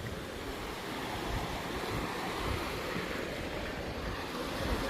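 Water from a hillside waterfall spring rushes steadily, a soft, even, continuous wash of flow heard close by with no other sounds.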